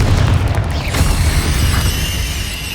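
A Confringo spell explosion in the video game Hogwarts Legacy, heard as a loud, close, deep boom that rumbles and fades slowly, with a brief sharp crack partway through.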